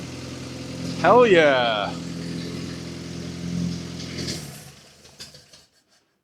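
A barn-find Jeep CJ-5, parked for 45 years, has its engine running with a low, steady idle and a brief rev. Voices speak and exclaim over it before the engine dies away at the end.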